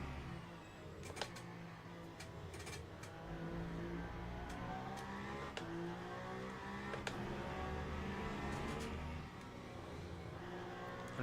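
A Lamborghini race car engine in a racing video game drones and revs continuously at a distance, fairly faint, with occasional sharp clicks over the steady hum.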